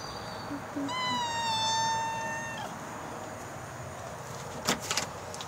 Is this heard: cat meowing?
yes